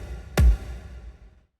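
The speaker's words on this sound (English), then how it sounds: "So I took a kick, I threw it in some reverb, and it sounds like this." A single deep kick drum hit drenched in reverb, with a long reverberant tail that decays smoothly into silence.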